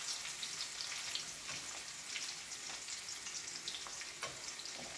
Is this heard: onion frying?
yes